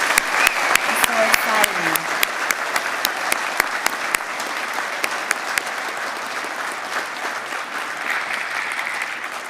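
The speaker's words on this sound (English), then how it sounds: "Can you join me with a loud applause for all of those who have received awards?" Loud, sustained applause from an audience at a fire department awards ceremony honoring recipients, steady dense clapping throughout with a few sharper individual claps standing out near the start.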